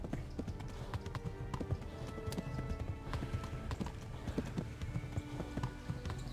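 Steady clip-clop of a galloping horse in the video game Kingdom Come: Deliverance with a brief whinny, rapid hoofbeats continuing throughout over a busy background.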